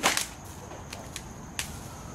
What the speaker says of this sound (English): you're slapping the concrete when it comes back